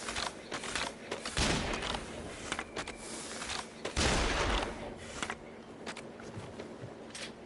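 Gunfire from a video game gun crackles in clustered bursts, with two heavy, booming volleys standing out among scattered sharper shots and faint mechanical clicks.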